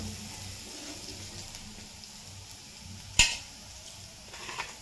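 A spoon stirs a mixture in a pan of hot oil, a soft steady sizzle broken by one sharp metallic scrape and a few faint clinks, close by with no speech.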